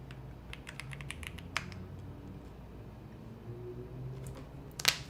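Someone types on a worn computer keyboard during a coding session, with scattered quick key clicks and a few sharper strokes over a low room hum, near and fairly quiet.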